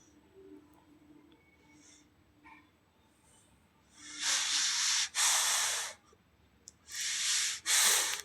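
A paste of ground cumin, mustard and poppy seed with salt being stirred in a pan, heard as a few loud bursts of hissy scraping and sizzling, two close together midway and two more near the end, with quiet gaps between.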